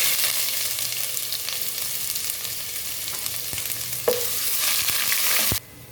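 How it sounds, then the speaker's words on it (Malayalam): Crushed garlic and ginger fry in oil left over from frying Chicken 65, giving a loud, steady close-up sizzle with a few stirring knocks, before the sound cuts off abruptly near the end. "സോസ് ഉണ്ടാക്കാൻ വേണ്ടി ചിക്കൻ വറുത്ത ഓയിൽ തന്നെ കുറച്ച് ഒഴിച്ച് കൊടുക്കുന്നുണ്ട്. വെള്ളുള്ളി ചതച്ചത് 1 ടീസ്പൂൺ ഇട്ട് കൊടുക്കുന്നുണ്ട്."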